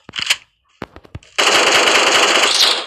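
Gunfire in the mobile battle-royale game PUBG Mobile: a few sharp shots early, then a sustained, loud burst of rapid automatic fire filling the final second and a half, with no talk.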